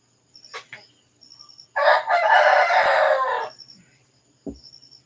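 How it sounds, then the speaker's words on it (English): Roosters crowing early in the morning in the Philippines, one loud, close crow lasting a couple of seconds, with fainter clucks and a brief squawk around it in a quiet rural setting. "Cockles are starting to crow."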